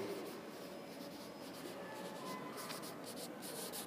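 A pen or marker scratches steadily across a writing surface, close and continuous under a constant background hiss.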